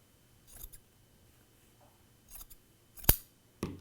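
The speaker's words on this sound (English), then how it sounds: "I'm going to cut down the back on the opposite side with my scissors" Scissors cutting fabric snip in a few short, crisp cuts spaced apart, ending with a sharper metallic snap, close and quiet with no talking.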